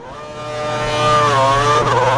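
A Formula 1 car engine in a racing game screams loudly up through the revs, its rising harmonic whine swelling and wavering as the car pushes on, with tire noise near the end and nobody talking.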